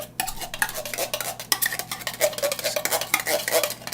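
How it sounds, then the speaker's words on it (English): Thick cream of mushroom soup being dumped and scraped from a can into a casserole dish, a steady run of close metallic clinks and scraping taps with no talk. "First thing we're going to do is dump in the cream of mushroom soup."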